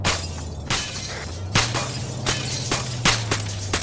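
Glass shatters repeatedly in the military shooter game Arma 3: several sharp crashing bursts arrive in uneven succession over a steady low engine-like hum.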